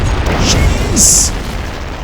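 Cannon fire in the strategy game Anno 1404 Venedig comes as a loud deep boom with crackling bursts, close and brief, followed by fading rumble.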